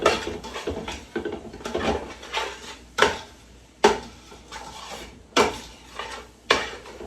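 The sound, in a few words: stirring red lentil and black bean chili in a pot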